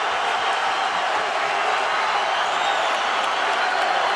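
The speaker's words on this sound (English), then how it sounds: "What a great crowd tonight." A large arena crowd at the first UFC event in Phoenix, Arizona, roars and cheers steadily throughout the main event, with scattered applause and whoops forming a dense, continuous wall of sound.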